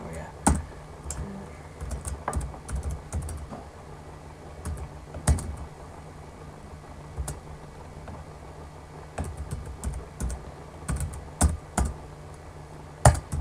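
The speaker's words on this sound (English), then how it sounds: "I'm typing in the wrong things, I'm sorry." Someone types commands on a computer keyboard in irregular bursts of close clicks and clacks, with pauses and a few louder key strikes, over quiet background hum and occasional speech.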